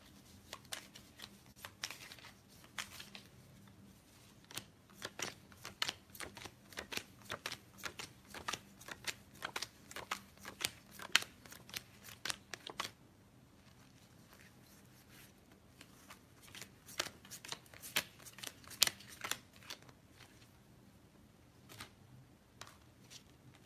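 Tarot cards being shuffled by hand, quick crisp riffling and flicking in repeated bursts with a short quiet pause midway, close and fairly soft.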